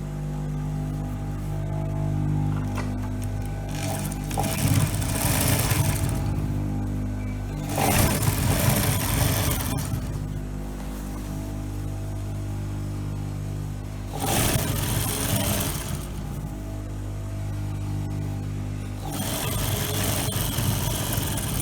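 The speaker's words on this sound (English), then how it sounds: "So I'm going to start sewing." A sewing machine stitches a skirt lining in three bursts of close mechanical whirring, set apart by quieter stretches with a low steady hum, and no talking.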